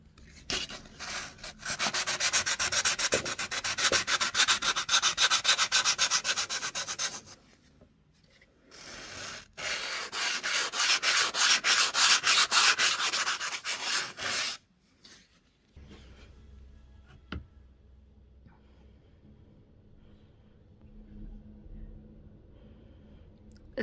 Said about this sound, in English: Now this has dried, just want to sand off all of the rough bits so that it's nice and smooth